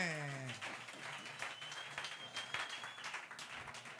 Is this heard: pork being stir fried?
no